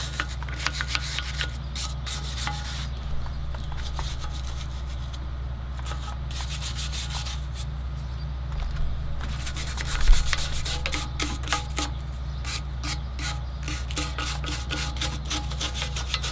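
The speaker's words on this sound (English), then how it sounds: "I'm gonna use the silver brush, which is supposed to be the hardest one among all of them" A hard silver wire brush scrubs steadily at a Ford Focus ST engine short block being prepped, a loud continuous rasping scrape with rapid back-and-forth strokes throughout, no talking.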